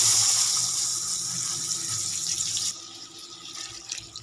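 Rinse water from a mixer jar runs steadily into a cooking pot of potato curry, a close, continuous splashing pour that thins and drops in level near the end.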